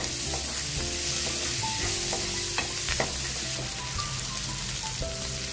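Onions sautéing in a pan for sambar, with steady close sizzling and intermittent stirring clinks and scrapes of a spoon against the pan throughout, no voices.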